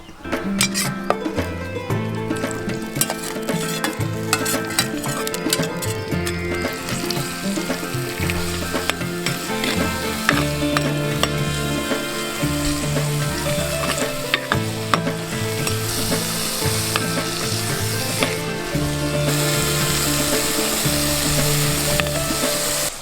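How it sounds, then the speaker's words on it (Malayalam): Fish curry ingredients sizzle steadily in a hot pan while a utensil stirs and scrapes with rhythmic clatter throughout. "ചട്ടി ചൂടായി ഞാൻ ഇതിൽ വേണ്ട ചേരുവകകൾ"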